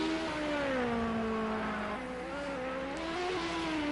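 Radical V8 prototype race cars in the video game Project Cars 2 drone past with steady, high engine whine and shifting pitch, a continuous loud racing tone without talk.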